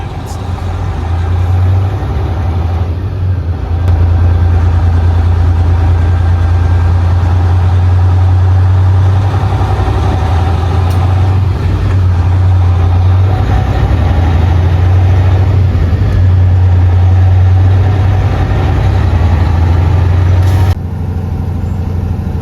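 A truck engine running steadily after repairs on a snowy road, a deep constant hum with a strong low drone, loud and close for the whole stretch, under occasional talk.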